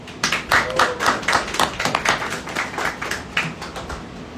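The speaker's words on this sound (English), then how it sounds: "I want to go ahead and give you a round of applause for the work you do." A small rally crowd claps in a round of applause, the individual claps sharp and distinct rather than blended, rising and falling in loose bursts over several seconds.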